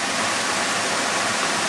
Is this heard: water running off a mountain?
yes